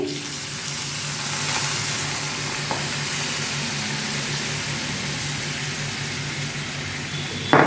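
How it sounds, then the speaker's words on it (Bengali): Water goes into a pan of sizzling sautéed watermelon rind seasoned with salt and turmeric, a loud, continuous close hiss and bubbling that holds steady with a bump at the very end. "এবার এতে আমি জল ঢেলে দেবো"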